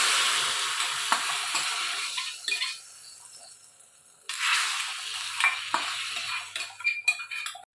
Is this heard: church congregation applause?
no